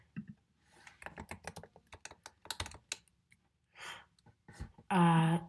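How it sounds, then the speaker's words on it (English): Computer keyboard typing in bursts of quick key clicks, close and fairly quiet, with a short breath and a brief voiced sound near the end. "you can probably hear me typing on the keyboard"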